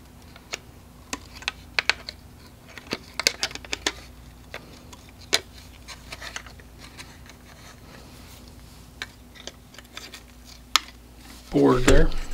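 Wires inside a battery-powered ON AIR sign are snipped near the circuit board, heard as a series of sharp, sparse clicks from cutters close by, with a louder rustle of handling at the end.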